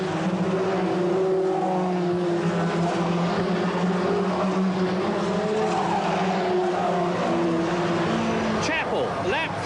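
Touring cars racing on a track, with engines roaring and droning continuously at close range, shifting pitch as they pass, under a commentator's voice.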